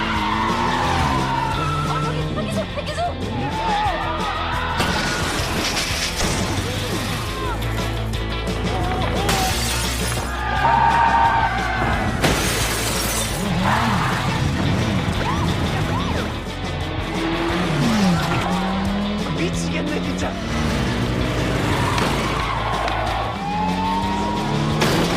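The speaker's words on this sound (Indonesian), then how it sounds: "untuk menangkap Han, hingga secara kebetulan mereka malah berpapasan di perempatan jalan dan aksi kejar-kejaran pun tidak terelakkan." Film car chase through city streets, loud overlapping tire squeals and skids, roaring engines and crash impacts throughout, dense and continuous with a music score underneath.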